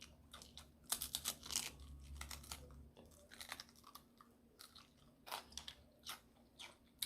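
Crunchy chewing close to the mic, a series of crisp bites and grinding crunches in irregular bursts, with no talking.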